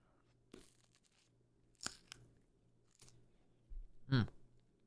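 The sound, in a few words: crunching while eating salted food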